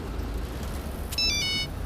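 A short electronic phone ring chimes in over steady low rumbling background noise, coming in a quick burst near the end.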